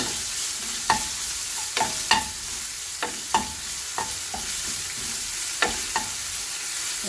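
Onions, crushed ginger and garlic fry in a pan with a steady sizzle, punctuated by a regular series of sharp spatula scrapes and taps roughly every second, with no talking.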